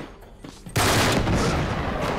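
Dense, sustained gunfire from a firefight in the video game Uncharted 3: Drake's Deception. It erupts suddenly after a quiet moment and stays loud as overlapping shots and bursts roll on without a break.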